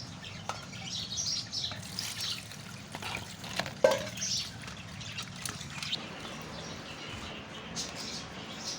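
Sliced bitter gourd (karela) is washed by hand in a bowl of ice water. Steady splashing and stirring continue close by, with a sharp clink partway through and light background noise.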